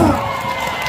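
A concert crowd roars with cheering and applause, a dense, loud wash of many voices and clapping close up that fills the short moment without a break.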